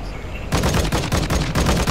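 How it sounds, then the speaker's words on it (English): JOKR launcher fired in Call of Duty DMZ: after a quiet half-second, a loud, dense run of repeated heavy blasts follows in quick rhythmic succession, close and without talking. "I'm firing jokers at it"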